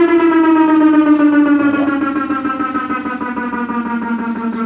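A faulty Consul CWL16 washing machine giving off a loud, steady droning whine that slowly slides in pitch, with a faint rumble underneath and no talk.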